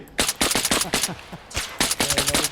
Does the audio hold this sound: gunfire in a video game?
yes